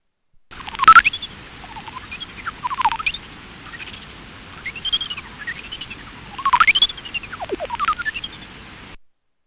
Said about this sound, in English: It uses high-pitched echolocation, but through the miracle of science,